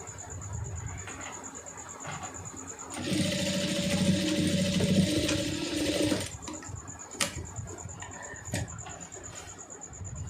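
An electric sewing machine stitches a lace neck design, running in one steady burst of about three seconds mid-clip, with quieter room sounds and faint voices before and after.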